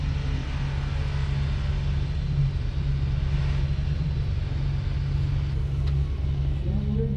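A super stock diesel tractor at a tractor pull in Hutchinson, Minnesota, holds a heavy, steady low-pitched engine roar with little variation, droning on continuously throughout.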